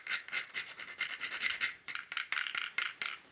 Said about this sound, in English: we're going to freshly grate that cinnamon over the top of this